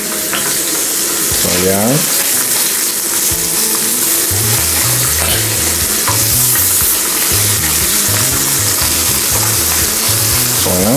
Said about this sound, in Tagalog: Fry lang po natin ang ating chicken ng 45 minutes.